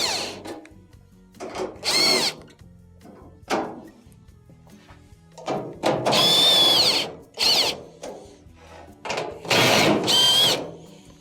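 A power drill whirs in short bursts while backing quarter-inch screws out of the side of a Maytag dryer, each run rising in pitch and stopping, loud and close, with quiet clicks and handling between the runs.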